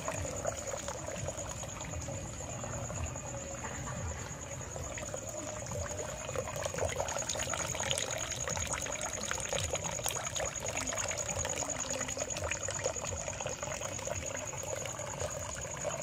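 Water from a hose pours steadily and strongly into an azolla tank, a continuous rushing trickle with no talk over it.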